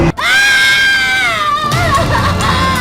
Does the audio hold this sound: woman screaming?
yes